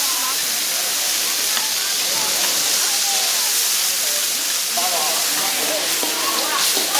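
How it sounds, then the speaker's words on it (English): A steady, loud sizzle hisses from dumplings frying on a hot griddle at a street food market in China, with people talking faintly over it. "I actually heard the dumplings sizzling"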